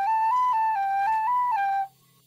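A whistle instrument in the survival video game The Wild Eight plays a stepped, wavering melody of loud, shrill held notes for nearly two seconds, then cuts off into near silence.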